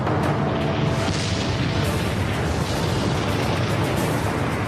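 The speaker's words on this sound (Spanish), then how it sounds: "Luego el Vesubio erupcionó." The volcanic eruption of Vesuvius roars as a dense, continuous rumbling blast, loud and unbroken for several seconds with no distinct individual bangs.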